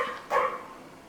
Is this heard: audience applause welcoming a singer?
no